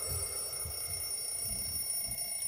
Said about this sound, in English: I saw a ringing alarm clock.